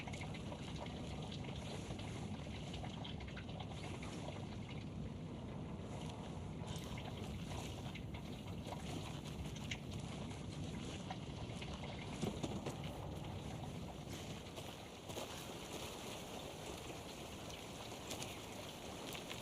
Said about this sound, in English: You can hear the water draining in the washing machine.